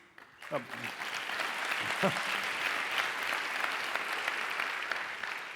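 An audience breaks into sustained applause after a talk about recovery, rising quickly after a brief voice and holding steady, dense and even for several seconds.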